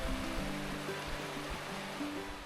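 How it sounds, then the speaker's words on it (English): Water from recent rain running down hillside streams in Snowdonia, a steady close rushing babble with no pause, heard alone. "there's still so much water on the hills running down"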